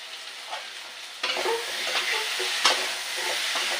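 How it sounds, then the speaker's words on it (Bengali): Taro stolons (kochur loti) and fish sautéed in a pan make a steady, dense sizzle with occasional scraping stirs, close and continuous, with no talking. "এভাবে কষিয়ে নিতে হবে বেশ সুন্দরভাবে।"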